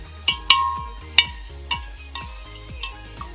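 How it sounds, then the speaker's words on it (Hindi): Spoon stirring sugar and salt into water for orange lemonade, several clinking taps against the glass or jug in an uneven rhythm, close and fairly clear. "फिर चीनी डालेंगे, फिर नमक डालेंगे, फिर इसको डिसॉल्व कर लेंगे।"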